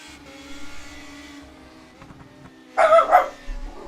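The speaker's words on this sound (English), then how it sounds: "And a special appearance by our dog" A dog gives a short burst of two or three loud barks close by, cutting over the steady engine drone of a Radical Cup race car lapping Blackwood in the rFactor 2 racing sim.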